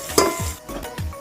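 Bay leaf, green chillies, onion and tomato stirred into hot oil in a pan, a brief frying hiss with a few scraping stirs and light clinks of a spoon against the pot.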